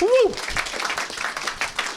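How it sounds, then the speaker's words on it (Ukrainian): Applause from the audience at an improv comedy show, a dense patter of clapping that runs beneath a voice talking over it throughout. "Ну супер, дайте оплески Миколі."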